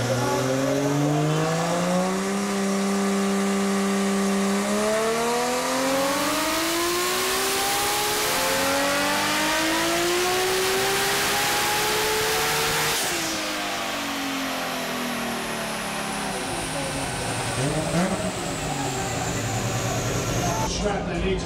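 A tuned Toyota Supra with a 3-litre 2JZ engine making over 1,000 wheel horsepower revs on a dyno. The loud engine note climbs steadily in pitch for about thirteen seconds, then drops back and settles.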